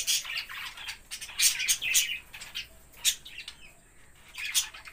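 Fischer's lovebirds and cockatiels chirp in a busy aviary, sharp high tweets and squawks coming in bursts from several birds at close range.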